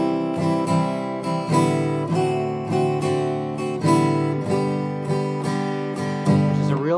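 An acoustic guitar is strummed through a series of chord changes in a steady rhythm, each change marked by a sloppy open-string strum between the chords.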